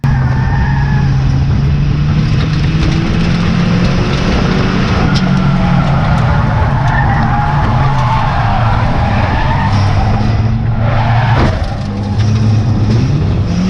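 Ford Fiesta race cars bunch up into the hairpin at Knockhill, engines roaring loud and continuous with overlapping revs, gear changes and tyre scrub, no talk above the racket.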